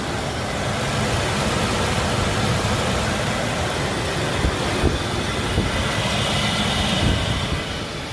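Supercharged Ford Explorer Sport Trac with a 4.0 V6 driving, a steady broadband roar of engine and road noise that stays even and fairly loud throughout, no talking.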